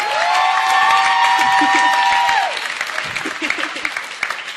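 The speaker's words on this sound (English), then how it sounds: "give them a great round of applause for all of the work that they've put in" A crowd at a conference closing ceremony claps steadily in applause, first under a sustained electronic tone that cuts off, then continuing alone as scattered, fading handclaps.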